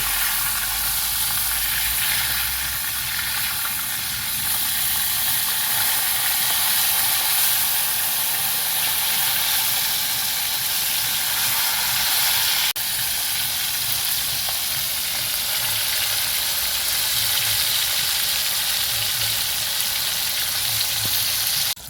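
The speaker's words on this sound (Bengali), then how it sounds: "মাছগুলো এইভাবে দুই টুকু ভেজে নেব" Pieces of bata fish sizzle and spit in hot oil in a pan, a loud continuous crackling fry that holds steady throughout, with no talking.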